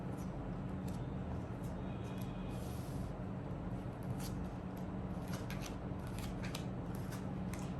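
A Rider-Waite tarot deck is shuffled close up, with steady papery riffling and soft card slaps running continuously over low background hiss.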